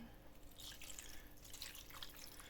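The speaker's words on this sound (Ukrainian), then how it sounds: "І останнім я сюди додаю трішки теплого бульйону" Warm meat broth is poured into a pork-head brawn mixture, giving a soft, steady liquid trickle and dripping that runs throughout, fairly quiet and close, with no talking.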